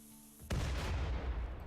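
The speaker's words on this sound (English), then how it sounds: "Do turrets blow up more than they used to?" A turret blows up in the RimWorld video game: a sudden loud blast cuts in after a quiet electronic hum, followed by a rumbling, crackling roar that stays heavy and sustained.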